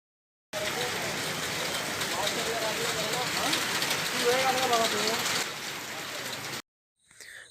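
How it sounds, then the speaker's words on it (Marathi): Heavy rain falls steadily in a village setting, a dense, continuous hiss that holds for about six seconds before cutting off, with a voice audible beneath the downpour. "पण हा पाऊस थांबायचं नावच नव्हता घेत"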